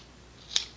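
Scissors snip once through craft material while building an Estes Doorknob model rocket, a single short crisp cut in an otherwise quiet room.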